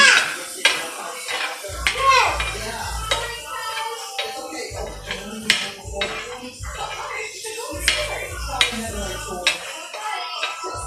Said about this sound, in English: Go ahead and stir it up.